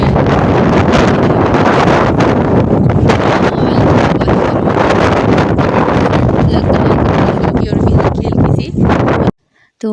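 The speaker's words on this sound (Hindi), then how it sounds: "हवा बहुत ज़्यादा तेज़ थी" Strong gusts buffet the microphone in a constant loud roar for most of the stretch under dark storm clouds, with a voice speaking through it before the noise cuts out abruptly near the end.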